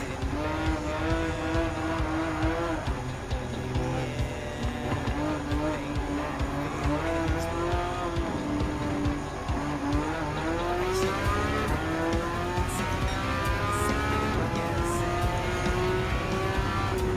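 Several Porsche race cars, including a Type 930 and a Type 996, overtake during a Porsche Cup race in Gran Turismo 7, with engines droning and shifting pitch steadily throughout.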